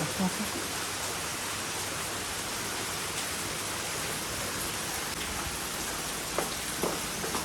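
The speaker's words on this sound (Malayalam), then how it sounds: "രാവിലെ തുടങ്ങി അളിഞ്ഞ മഴ." Steady rain falls continuously in a dense, even hiss of broadband noise, unbroken for the whole stretch, with no voices heard.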